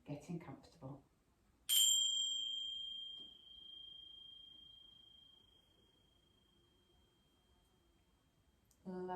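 A single bell ting rings out at the start of a yoga or meditation class, bright and clear, then sustains as a long fading tone for several seconds. A voice speaks briefly before it and again as it dies away.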